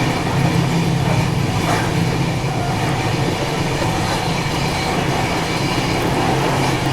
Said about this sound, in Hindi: अपनी ट्रेन लगभग आधे घंटे की देरी से चल रही है